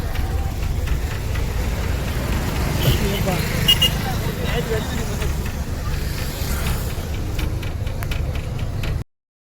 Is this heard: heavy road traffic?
yes